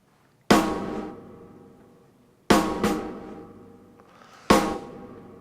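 Three snare drum sample hits, one a quick flam, each with a TrueVerb reverb giving a long reverberant tail that slowly fades before the next strike.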